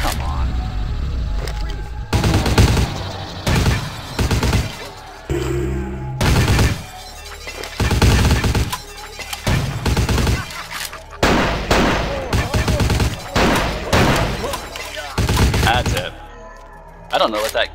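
Unidentified video game gun firing in repeated loud bursts of sharp shots separated by short pauses, with a voice talking between some bursts.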